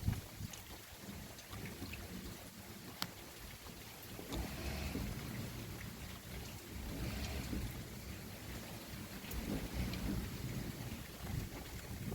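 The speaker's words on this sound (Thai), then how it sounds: "ฝนมาแล้ว" Steady rain hisses across a dull background rumble, faint and continuous with no voices.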